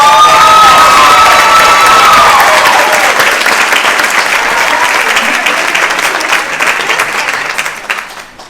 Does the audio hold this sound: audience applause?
yes